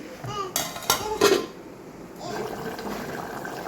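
A metal lid is set down on a pot of Telugu-style mutton curry with tomato, giving a few loud clanks near the start, followed by a softer simmering and clinking hiss.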